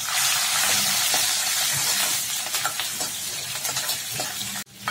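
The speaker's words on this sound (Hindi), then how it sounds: "इसको मिला लेंगे, प्याज रेड होना चाहिए, सुनहरा होना चाहिए, तब तक इसको स्टर करना है।" Onions and curry leaves fry in a kadai with a bright, hissing sizzle and scattered stirring clicks. The sound cuts off abruptly near the end, and nobody speaks.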